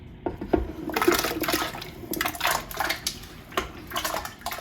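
Potatoes dropped into a pot of water for a beef, kielbasa and vegetable boiled dinner give a series of splashes and knocks against the metal pot, with water sloshing between them, fairly close and with no talking.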